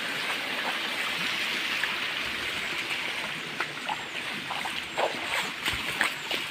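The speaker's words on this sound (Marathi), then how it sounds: "हे पाणी रस्त्यावरून जाते इकडून" Steady rushing of water flowing across a road, broadband and continuous, with a few faint knocks and splashes toward the end.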